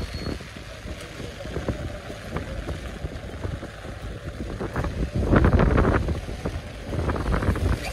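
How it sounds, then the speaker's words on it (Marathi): Strong wind gusting against the microphone outdoors near a farm tractor, a steady broadband roar that swells louder in the second half with buffeting bursts. "वारं खूप सुटलंय"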